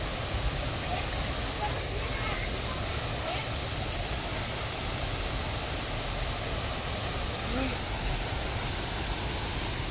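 Kao Chon waterfall in Ratchaburi, Thailand, rushing in a steady, loud, broadband roar that stays constant throughout with no other sounds standing out.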